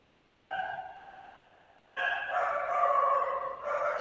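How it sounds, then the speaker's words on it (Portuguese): A dog barks nearby in long, drawn-out, tonal cries that come in two loud bursts separated by a short pause, with no talk over them. "Tem um cachorro muito doido latindo aqui."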